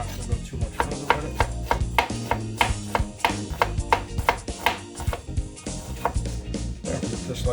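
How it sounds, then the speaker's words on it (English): A kitchen knife chops an onion on a board for homemade perogies: steady, brisk, close thuds in an even rhythm, one after another, with no talking over them. "we're gonna chop this onion just like this"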